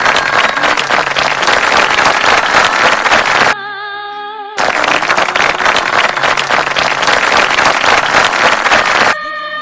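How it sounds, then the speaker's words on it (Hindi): An audience at an International Women's Day gathering gives loud, dense applause in two long bursts separated by a short musical break, close and sustained. "जोरदार ताली।"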